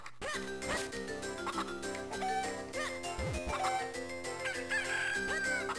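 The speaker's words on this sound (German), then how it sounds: "dann fangen 7 Hühner in 60 Sekunden." Chickens from The Legend of Zelda: The Minish Cap cluck and crow in a catch-the-chickens minigame, with repeated bird calls layered over game music and effects.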